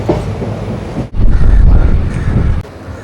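Train rumbling and clattering into Nagercoil railway station along the doubled Thiruvananthapuram–Nagercoil line, a loud close roar with wind buffeting and a brief dip before the noise swells again.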